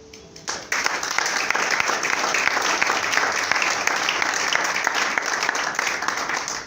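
A church congregation bursts into sustained applause after a brief quiet start, a dense, steady wash of clapping that fills the whole stretch at even loudness, with no voices heard.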